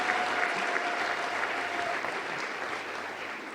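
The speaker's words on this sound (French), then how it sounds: "J'aimerais qu'on acclame très bien." A church congregation applauds during a worship service, a dense, loud burst of clapping sustained for a few seconds.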